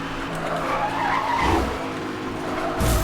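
A car accelerates and slides in the racing game Need for Speed: Hot Pursuit (2010): a continuous engine roar with loud tire skids and squeals, swelling and surging toward the end, without talk.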